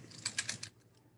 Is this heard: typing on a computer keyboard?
yes